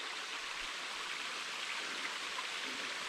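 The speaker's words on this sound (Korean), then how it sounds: "물소리가 여기서 이제 많이 물이 이제 직접적으로 이제 내려오고요" A mountain stream on Sapaesan pours over rocks along a hiking trail, a steady, close, full rushing of water with no breaks.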